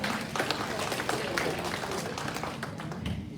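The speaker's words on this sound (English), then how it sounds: "Let's give them a round of applause for that." A room of residents clapping at an annual association meeting, steady moderate applause throughout the short stretch with no voices on top.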